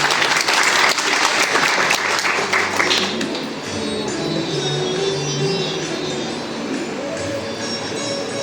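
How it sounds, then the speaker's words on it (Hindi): An audience in a seminar hall at an ICT workshop applauds to welcome guests, with loud, dense clapping for about three seconds that then drops off, leaving quieter room noise and a few stray claps. "एक बार जोरदार तालियों से स्वागत करेंगे।"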